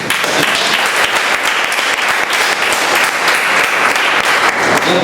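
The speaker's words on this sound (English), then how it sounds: "So let's give it round of applause." Audience applause at a Toastmasters club meeting in Bombay, a dense, sustained wash of clapping from a room full of people, loud and steady for several seconds.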